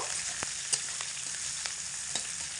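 Thick-cut onion pieces frying in oil over medium heat, with a dense, even sizzle throughout and a few light clicks of a spatula against the pan.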